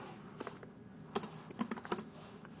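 An email is typed on a computer keyboard in short bursts of close, crisp key clicks, sparse at first and then quicker, with no voices.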